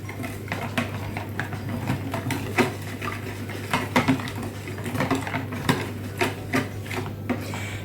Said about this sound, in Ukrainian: І тепер знову гарненько ось так розколочуємо.